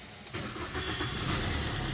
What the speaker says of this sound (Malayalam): വണ്ടി സ്റ്റാർട്ടായി